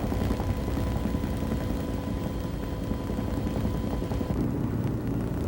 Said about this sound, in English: The chopper crew decides to lower the piece down to the mountain.